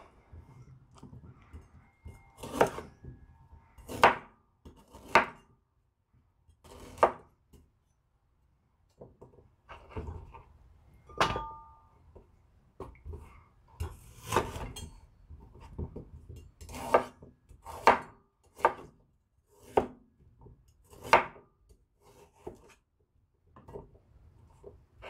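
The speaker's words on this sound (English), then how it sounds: "So let's start chopping." A knife chops ginger on a wooden board in irregular bursts of sharp taps, close and fairly loud, with brief pauses between runs.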